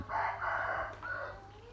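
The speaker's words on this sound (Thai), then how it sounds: "เสียงนกร้องเสียงไก่ขัน" A rooster crows faintly in the distance, a drawn-out call in two parts over a quiet rural village morning background with birdsong.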